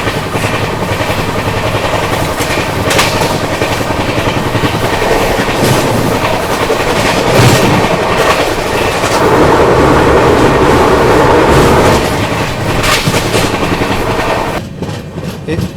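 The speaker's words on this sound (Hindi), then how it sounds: "तो देख सकते हो ट्रेन अपनी फ्लैट 110 भाग रही है।" The 15128 Kashi Vishwanath Express runs flat out at 110 km/h between New Delhi and Banaras, heard from inside a 2AC coach as a loud, continuous rumble with rhythmic wheel clatter, a brief dip near the end.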